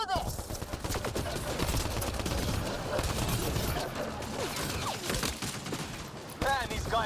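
Sustained gunfire in the sci-fi shooter Mass Effect: Andromeda, a steady barrage of rapid shots and mechanical clatter through the whole stretch, with voices shouting over the combat.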